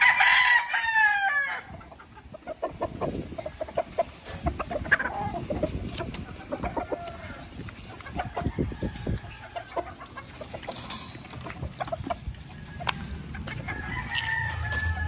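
Gamefowl roosters and pullets in a scratch pen crow and cluck, with one near crow at the start followed by scattered clucks, scratching and more distant crowing throughout.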